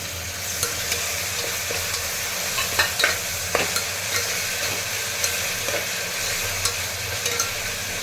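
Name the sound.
ginger garlic paste sautéing in pan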